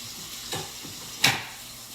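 Chicken pieces brown in a frying pan for chicken cacciatore, giving a soft, steady sizzle broken by two brief scrapes or shifts in the pan.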